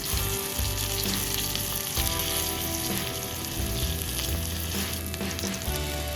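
Ribeye steak searing in a hot pan and being turned repeatedly, a steady close sizzle and crackle with scraping stirs throughout, no talking.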